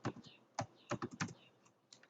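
Quiet keystrokes tap on a computer keyboard while code is entered, an irregular run of soft clicks and clusters, faint and close, with no talking.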